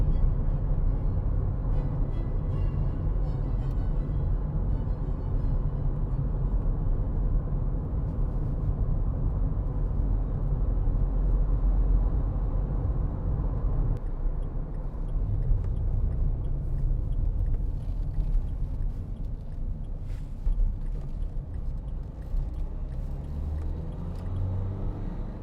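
A 2016 Dacia Duster 1.5 dCi diesel engine idles with a continuous low rumble, steady and close, with faint rattles and shifts in tone across the stretch and no talking.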